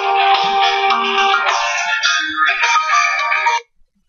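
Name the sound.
phone ringing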